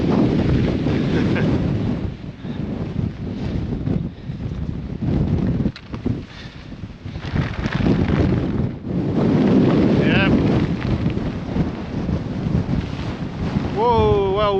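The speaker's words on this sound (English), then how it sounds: "Whoa, well windy." Strong wind on an exposed hilltop in the Cheviot Hills, Northumberland, roaring and buffeting the microphone in loud continuous gusts with brief lulls, a faint voice briefly audible near the end.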